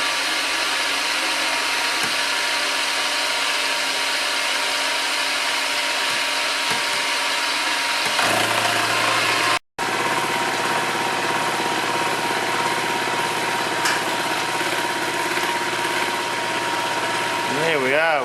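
Ferguson tractor front axle being machined by hand feed with coolant, a steady loud machine drone with a shift in pitch and load midway as the cut engages, continuous and close.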